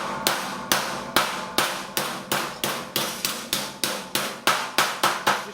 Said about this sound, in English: I just used the ball peen hammer